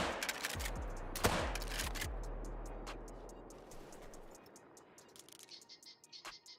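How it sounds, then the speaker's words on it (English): A single loud gunshot rings out in a bison-hunting video game, a sharp crack followed by fading rumble, with further faint clicks and small game sounds afterward. "I'm thinking we kill this and then I shoot one of the bison."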